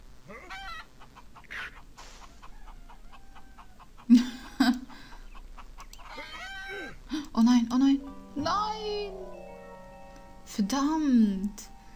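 Cartoonish chicken clucks and squawks in the mobile game Tiny Thief, several bursts scattered among other game effects, with a person talking throughout.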